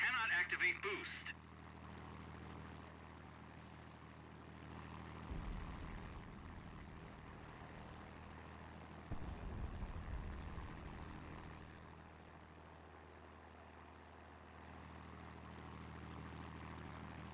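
An overheated propeller fighter plane engine drones in a video game dogfight, a steady low hum running the whole time with a brief burst at the start and swells of rumble midway, while a voice talks over it.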